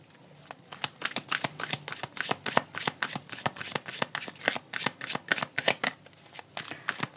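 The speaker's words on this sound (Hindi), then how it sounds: "कुछ कार्ड मैं यहाँ से लूँगी आपके लिए।" Tarot cards are shuffled and drawn by hand in a quick, rhythmic run of crisp riffling snaps and flicks, close and clear, with no talking.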